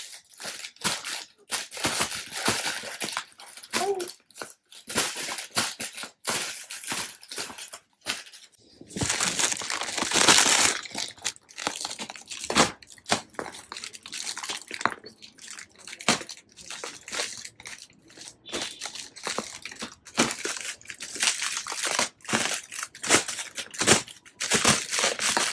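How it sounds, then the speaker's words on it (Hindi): Crinkling and crunching rustles from a baby's toy balloon with something rattling inside, played with on the floor at home; irregular bursts continue throughout, close and moderately loud, with no talking. "बैलून के अंदर आवाज़ हो रही है"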